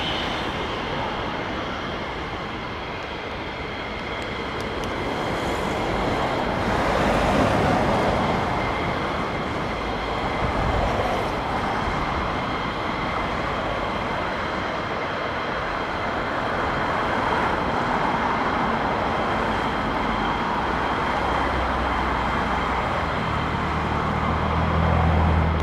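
F-22 Raptor fighter jets taking off on afterburner, one jet's right afterburner failing to light, a sustained loud broadband roar that swells and holds for the whole stretch with no talk.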